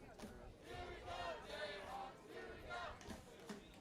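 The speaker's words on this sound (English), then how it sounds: "Jefferson cheer section is still going at it down there." The Jefferson cheer section at a high school football game against Bettendorf keeps up a rolling, distant crowd cheer, faint and steady with swells of chanting voices and no clear lulls.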